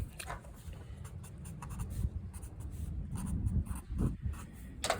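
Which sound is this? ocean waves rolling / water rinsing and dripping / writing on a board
writing on a board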